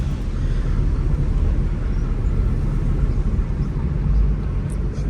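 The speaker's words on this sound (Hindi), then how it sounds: "एसी ऑन हो गया इसका।" A Toyota Indus Corolla, fitted with a converted 1500cc CVT engine, runs its air conditioner. A steady, loud broadband hum and rumble continues throughout, with no speech.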